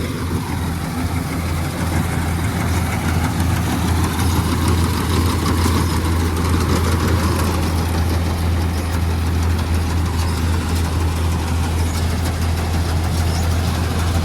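A heavy diesel Swaraj 963 FE tractor engine idles with a deep, steady throb and a faint knocking rattle, running continuously at close range.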